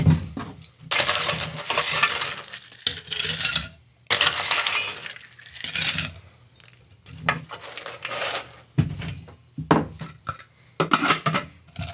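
Ice cubes dropped into a glass while a sloe gin fizz is mixed, giving a string of bright clinks and rattles in several bursts across the stretch, close and fairly loud, with no talk over them.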